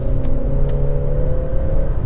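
An Omoda car with a CVT gearbox accelerating, its engine giving a steady, close droning hum with a low rumble that holds an even pitch throughout, with no voices.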